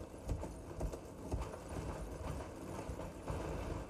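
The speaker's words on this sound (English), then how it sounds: "Is that a donkey? It looks like a sad donkey." A donkey-like creature plods along in the video game Elden Ring, producing a steady run of soft hoof clops over a muddy, rumbling ambient background, close and moderately loud without speech.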